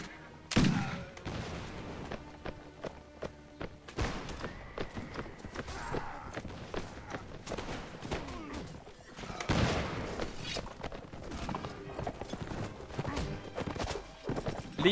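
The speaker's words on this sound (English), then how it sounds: "My troops are firing on something." Musket volleys from troops in the Mount & Blade Warband video game, scattered cracks and ragged fusillades mixed with galloping hooves and battle noise, moderately distant throughout.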